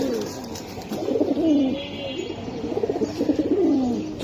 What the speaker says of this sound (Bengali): দুইটাই একদম আকর্ষণীয় কবুতর ভাই